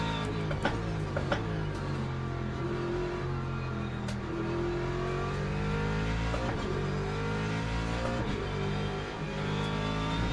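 Race car engines drone and rev in the Le Mans Ultimate racing game, a loud sustained multi-engine roar with rising and falling pitch as gears shift, close and continuous throughout with no talking.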